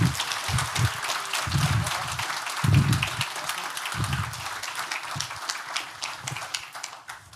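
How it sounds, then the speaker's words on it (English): A conference audience at a network operators' gathering applauds: a soft, dense patter of many hands that holds steady and slowly fades toward the end, with a few dull low thuds underneath. "We already gave him an applause"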